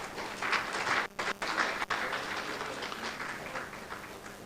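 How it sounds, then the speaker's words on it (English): Audience at a STEM education conference applauding, a steady patter of many hands clapping, moderately distant and soft in a large hall. "a warm round of applause."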